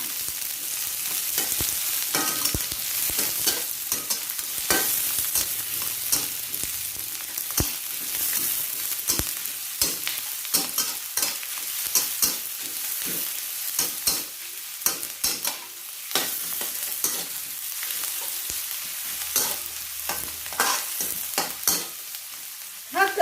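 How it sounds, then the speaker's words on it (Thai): Onions sizzle and crackle steadily in a hot pan, with frequent scraping and stirring clatters throughout, close and fairly loud. "ใส่ลงไปเลยค่ะ หัวหอมผัดให้สุกแล้วเขาจะหวานนะคะ"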